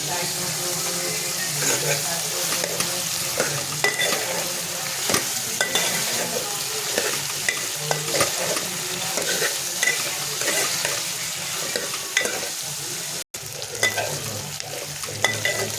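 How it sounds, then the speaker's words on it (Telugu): Spiny gourd pieces sizzle steadily in oil in a pan, a continuous close frying hiss broken by frequent stirring clatter, with faint talk at times. "మంచిగా నూనెలో మగ్గాలి కాయలు మొత్తం"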